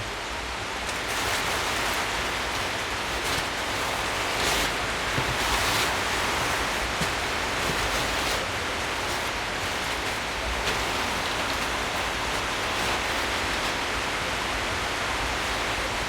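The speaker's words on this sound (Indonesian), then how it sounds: "Tuh, hujan lebat begini." Heavy rain pours down steadily outdoors, a dense, loud, unbroken hiss of water striking surfaces that holds throughout with no voices.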